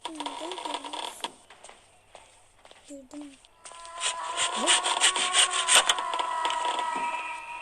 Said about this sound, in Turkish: Testereyle açtım. Bak ben testere almıştım.